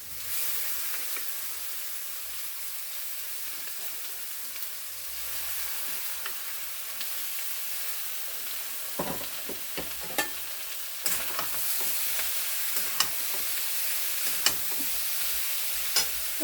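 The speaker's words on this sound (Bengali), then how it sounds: "হালকা আঁচে নাড়াচাড়া করে নিই।" Cooked rice stir-fries in a pan over low heat, a continuous hissing sizzle with scattered clicks and scrapes of the spatula growing more frequent toward the end.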